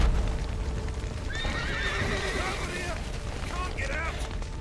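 Horses neigh and whinny inside a burning stable in The Witcher 3, loud and close over a dense roar of fire and rumbling noise, with several rising-and-falling whinnies overlapping through the middle.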